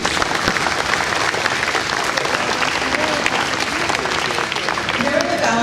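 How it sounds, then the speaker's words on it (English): Dense, continuous applause from a luncheon audience honoring scholarship namesakes, a steady roar of many hands clapping at once with a voice briefly emerging near the end. "Let's give them a round of applause, please."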